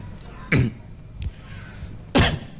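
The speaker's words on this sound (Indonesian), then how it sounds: "Nah, itu batuk." Two sharp coughs close to the microphone, separated by a short pause with a softer throat sound between them.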